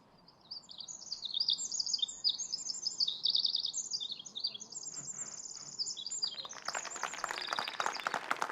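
Recorded Pacific wren song played back, a rapid run of high, bubbling trills and chirps repeating for several seconds, fairly faint, ending in a busier burst of sound.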